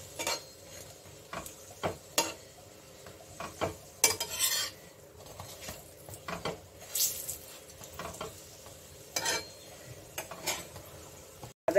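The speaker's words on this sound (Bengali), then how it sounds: "সাইডগুলো একটু চেপে চেপে ভাজতে হবে" Paneer paratha pressed and fried in a pan with a little ghee, quiet sizzling broken by repeated scraping and clinking strokes of a spatula against the pan, close and intermittent, no talk.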